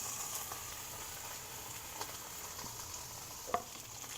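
Japanese A5 Wagyu steak searing salt side down in a dry pan with no oil, rendering its own fat, a soft continuous sizzle with faint scattered crackles and one small click.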